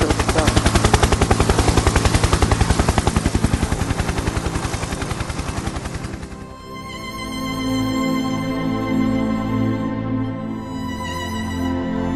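Dramatized gunfire from a film about the Pilkhana massacre: loud, rapid machine-gun bursts rattle continuously for about six seconds, then give way to a droning, helicopter-like hum and tonal sounds.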